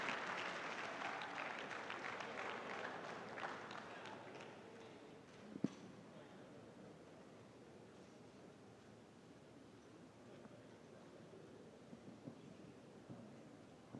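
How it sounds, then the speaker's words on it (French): Sustained applause at a forum opening ceremony in a hotel hall in Abidjan, a broad wash of clapping that is strongest at first and slowly thins to a faint patter, with light room noise. "Applaudissements nourris"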